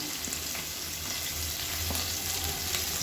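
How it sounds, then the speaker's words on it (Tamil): Sliced onions sizzle steadily in hot oil in a pan while a kurma is prepared, a dense, even crackle with occasional soft stirring clicks and no talking. "இப்போ வெங்காயம் சேர்த்துக்கலாம்"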